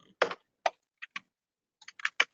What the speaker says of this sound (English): Maybe I should type it up again.